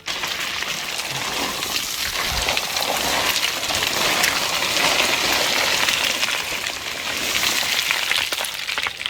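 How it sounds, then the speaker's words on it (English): Heavy rain pouring on a mountainside during a stormy bushwhacking hike, a dense, loud, steady wash of drops hitting surfaces close by, with no voices. "It is bucketing"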